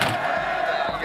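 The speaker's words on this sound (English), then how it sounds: "Listen to the crowd." A crowd roars steadily at a two-man bobsleigh World Cup heat in Altenberg, a continuous loud wash of cheering without breaks for about a second.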